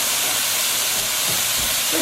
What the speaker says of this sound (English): Pour the shrimp in. Hear that sear?